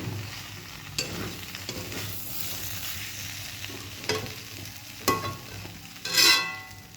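A spoon works through ghugni, Bengali curried peas, in a frying pan: low sizzling runs throughout with intermittent scraping knocks, and a louder clatter comes near the end.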